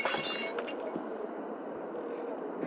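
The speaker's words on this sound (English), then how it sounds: "you said of broken glass, correct?" Glass shattering as a sound effect, a bright breaking crash with tinkling shards that quickly gives way to a continuous low hiss.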